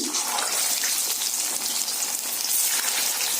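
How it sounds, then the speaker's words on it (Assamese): Marinated chicken frying in hot oil for a restaurant-style chicken curry, a steady bright crackling hiss with no pauses, fairly quiet and close. "এয়া তেলখিনি গৰম হৈছে, মই চিকেনখিনি অলপ ভাজি ল'ম।"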